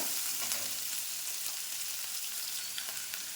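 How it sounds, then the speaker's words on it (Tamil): Chopped onion sautéing in a pan for a cauliflower poriyal gives a steady, bright sizzle throughout, loud and close, with a few small crackles and no talking. "அதையும் போட்டு வதக்கலாம் வெங்காயம் வதங்கட்டும்"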